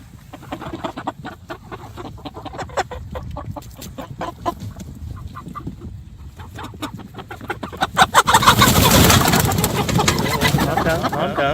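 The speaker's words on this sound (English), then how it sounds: "I kind of spooked the birds." Spooked meat chickens clucking and squawking on a farm, the flock growing suddenly louder and more frantic partway through, with some flapping commotion close by.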